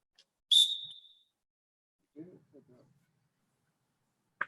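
One short, sharp whistle blast starts a high-knees drill at an outdoor football camp, followed by faint, distant voices.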